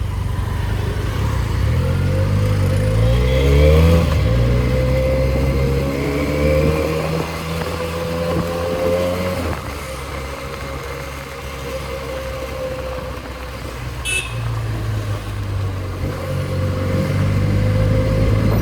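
A Benelli 300 motorcycle engine runs steadily close by, rising in pitch as it revs and accelerates, then settling before climbing again, with no voices.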